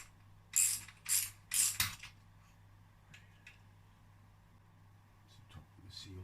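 A ratchet undoes the fork top nut on a DT125R motorbike: three quick, loud bursts of clicking close by, followed by quieter scattered clicks and handling noises.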